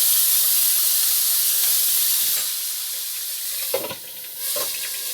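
Steaks and sliced onion sizzling loudly in a hot pan as the steaks are turned, a steady close hiss that dips briefly and surges again.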